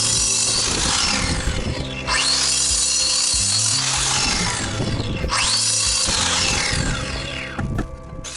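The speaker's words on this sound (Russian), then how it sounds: "а неровности дорабатываю шлифовальным диском по бетону." A power tool whines and grinds loudly in long passes, pitch sweeping up and down as a grinding disc bites into concrete on a house build.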